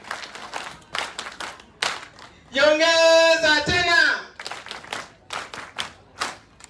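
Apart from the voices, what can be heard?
audience clapping at graduation ceremony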